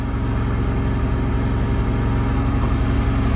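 A Kohler standby generator runs inside its enclosure with a steady, loud, droning engine hum that holds constant and close, with no voices.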